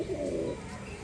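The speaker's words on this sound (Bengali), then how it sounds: "একদম দারুণ কোয়ালিটির ভিতরে পায়রা, নিচে বাজির নর পায়রা।" Brief, low cooing from a matched pair of high-quality pigeons being shown for sale, close by with little other noise.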